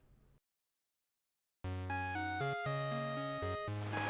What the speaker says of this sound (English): That ringtone is not comforting right now.